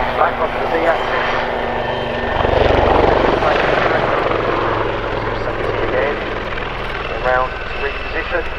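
A Royal Navy Wildcat helicopter performing a flying display at the RAF Cosford Air Show, its loud rotor thrum and turbine whine sustained and swelling as it maneuvers, with a commentator talking over the noise.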